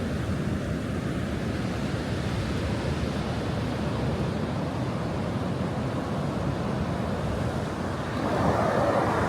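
Atlantic City surf rolls in the day after a hurricane, a steady, unbroken wash of breaking waves at moderate distance that swells slightly louder near the end, with no voices.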